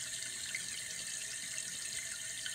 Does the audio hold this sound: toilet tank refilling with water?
yes